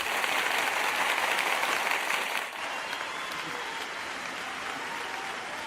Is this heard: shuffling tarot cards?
no